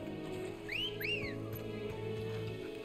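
In Final Fantasy 16, two rising-and-falling whistle calls summon a mount, played over steady game music and ambience at moderate volume.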